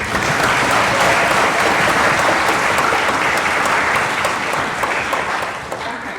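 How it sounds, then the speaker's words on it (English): Audience at a youth orchestra concert applauds in a steady, dense wash of clapping that holds loud throughout and eases slightly near the end, without talk. "a big round of applause for Katrina"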